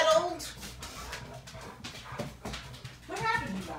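An indoor dog whimpers in high, wavering whines at the start and again near the end, close to the listener, with a person talking over and between the cries.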